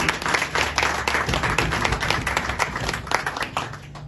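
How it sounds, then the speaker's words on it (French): An audience claps loudly and continuously for a retiring departmental health director at an official installation ceremony, a dense, close patter of many hands that eases slightly at the end. "s'il vous plaît, de l'applaudir."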